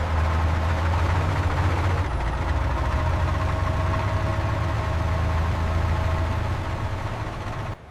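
The engine of a restored giant Bear LEVITHAN X13 vehicle runs with a deep, continuous rumble and vibration, loud and close. The tone shifts slightly after a couple of seconds and holds steady without any speech before tapering at the end.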